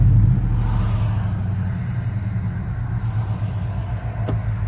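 A car engine revs while the transmission sits in neutral, a steady low rumble holding close and loud for the whole stretch, with a brief click near the end.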